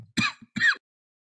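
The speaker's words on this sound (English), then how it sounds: "I've got a coughing fit all of a sudden." Two short, harsh coughs in quick succession, close and loud, followed by silence.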